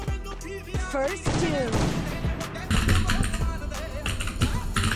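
Gunfire in the PUBG battle royale game, including AWM sniper rifle shots, with sharp reports and bursts over a busy mix of game sound, and a voice talking throughout.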